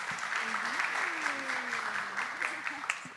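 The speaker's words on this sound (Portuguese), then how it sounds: "Uma salva de palmas para ele," Audience applause for a guest joining a live podcast recording, a steady dense wash of clapping from a room of people, with a voice speaking over it throughout.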